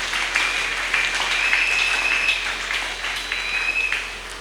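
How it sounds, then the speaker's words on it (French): Church congregation applauding during a Sunday worship service, a steady wash of clapping that holds throughout with small swells, alone with no talk. "Acclamez encore le Seigneur."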